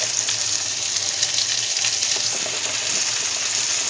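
Chopped capsicum sizzles in a hot pan for chowmein: a continuous, close, bright frying hiss with light stirring underneath.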